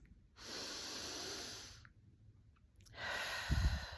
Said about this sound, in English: let's take a few breaths